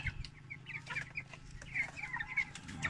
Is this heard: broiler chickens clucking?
yes